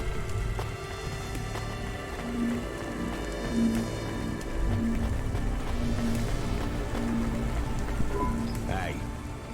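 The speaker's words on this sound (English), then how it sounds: "Don't let all the rain get you down." Steady rain falls in the video game Cloudpunk, a continuous patter on surfaces throughout, with a recurring low electronic tone and faint game sounds behind it.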